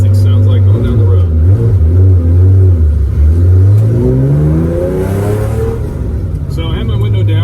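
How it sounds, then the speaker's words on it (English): A 1973 Porsche 911 fitted with a 991 GT3 muffler conversion drives down the road, its loud engine droning steadily then rising as it accelerates, heard close from inside the car. "This is driving a 73 911 with the 991 muffler conversion."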